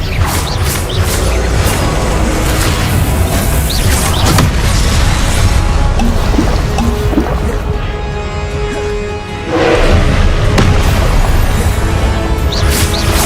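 Confringo blasting spell explosions in Hogwarts Legacy, loud dense booms and crashes rolling almost without pause amid continuous battle noise, with a fresh heavy blast near the end.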